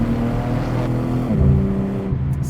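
A BMW M3's turbocharged engine drones loud and close with a steady exhaust note, its pitch stepping up and down through gear changes under load, with no talking.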